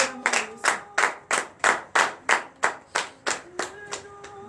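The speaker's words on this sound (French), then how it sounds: "donnez encore de vive acclamation à notre Seigneur Jésus" Rhythmic clapping from a church congregation during a Saturday morning prayer service in Benin, about a dozen sharp, evenly spaced claps in unison, close and loud, with no voices over them.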